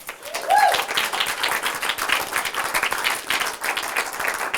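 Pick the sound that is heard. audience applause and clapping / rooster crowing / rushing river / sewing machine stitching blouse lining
audience applause and clapping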